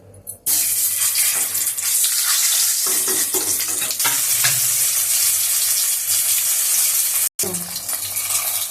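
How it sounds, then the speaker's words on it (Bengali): Eggs fry in hot oil in a wok, a loud, dense, steady sizzle that runs close and continuous, broken by one brief silent gap near the end. "একটু লাল মতো হয়ে গেলে ডিমগুলো ভেজে তুলে নেবো"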